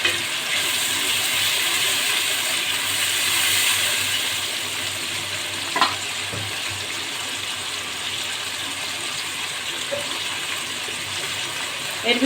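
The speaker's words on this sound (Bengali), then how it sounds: "হালকা একটু জল দেবো।" Water poured into rui fish curry with bori simmering in a pan, a steady broadband wash lasting throughout at moderate level with a faint swell midway, no talking.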